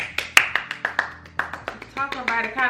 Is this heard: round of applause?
yes